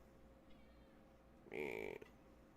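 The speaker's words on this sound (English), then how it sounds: "Meow to you too." A cat gives a single short, clear meow, close and fairly quiet, over faint room background.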